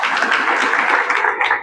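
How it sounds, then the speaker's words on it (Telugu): An audience gives a short burst of dense, steady clapping at close range, lasting only a moment. "మీకు మీరే ఒకసారి చప్పట్లు కొట్టుకోవాలి."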